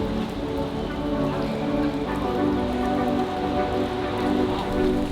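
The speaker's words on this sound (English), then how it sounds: "It's 7 a.m. and it's raining quite a bit." Steady rain falls on Charles Bridge in Prague in the early morning, a dense, even patter of drops hitting the stone surface, loud and continuous with no voices.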